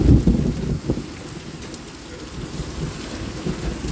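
Heavy rain pours steadily during a thunderstorm while low thunder rumbles close by, with a few louder booms early on under a constant wash of rainfall.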